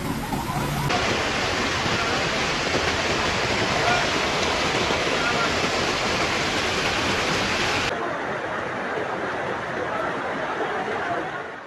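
Powerful floodwater currents rush through the streets of Kumba, Cameroon, as a loud, steady, broadband roar of churning water that runs unbroken throughout.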